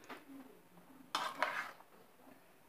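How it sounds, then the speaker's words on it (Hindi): Paneer cubes are gently stirred in a bowl, quiet and close, with soft scraping and a short cluster of light clinks against the dish midway. "ये पनीर के सारे क्यूब्स मैं इसमें डाल दूंगी। और बिल्कुल जेंटल आप इसको मिक्स कीजिए,"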